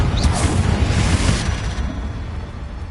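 Confringo explosion spell in the game Hogwarts Legacy, a loud close booming blast that starts sharply, then rumbles and fades over a few seconds, with no talk.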